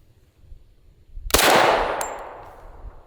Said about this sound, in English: the 45 ACP Kriss Vector with the weird curved recoil spring